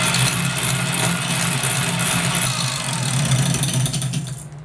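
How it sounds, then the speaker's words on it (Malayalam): An electric mixer whirs steadily at its highest speed while beating egg whites to stiff peaks for chocolate macarons, a loud continuous motor drone with a rattling buzz that fades slightly at the very end. "ബീറ്റ് ചെയ്ത് കഴിഞ്ഞതിന് ശേഷം ഏറ്റവും ഹൈ സ്പീഡിലിട്ടിട്ട് സ്റ്റിഫ് പീക്സ് വരുന്ന വരെ ഈ എഗ് വൈറ്റ്സ് ബീറ്റ്"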